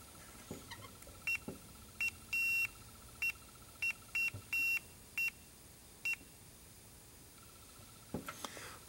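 Multimeter continuity beeps while testing a Porsche 914 throttle sensor: about ten short, sharp electronic beeps in an uneven series, some held slightly longer, close over quiet background with a few handling clicks at the end.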